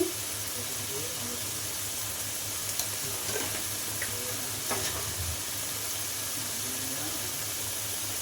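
Spice masala being fried down in a pan for a rithe fish curry, giving a low, steady sizzle with faint scrapes of stirring throughout.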